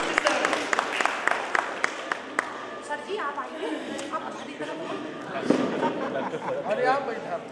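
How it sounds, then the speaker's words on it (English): At a college annual function, an audience applauds a guest being welcomed, scattered clapping mixed with lively crowd chatter and overlapping voices nearby. "A huge round of applause for sir."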